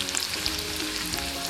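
Six chopped shallots frying in oil, a steady close crackling sizzle with fine pops spread evenly throughout, fairly soft with no voices.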